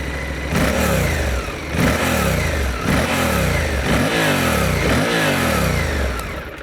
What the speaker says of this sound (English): this is another 270-degree parallel twin, and it sounds pretty nice